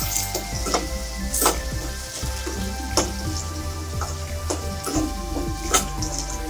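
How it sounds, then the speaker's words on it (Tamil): Onions, tomatoes, green chillies, curry leaves, mustard seeds and urad dal sauté in a pan for paruppu appalam kootu, a steady close sizzle broken by rhythmic scrapes and taps of a stirring spoon. "வெங்காயம் தக்காளி பச்சை மிளகாய் கருவேப்பிலை கடுகு உளுந்தம் பருப்பு எல்லாமே நல்லா வதங்க"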